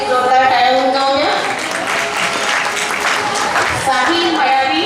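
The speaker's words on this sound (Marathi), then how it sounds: "त्याच्यासाठी जोरदार टाळ्या होऊन जाऊया" Loud audience applause at a school foundation day prize announcement, sustained clapping with speech and musical tones layered over it.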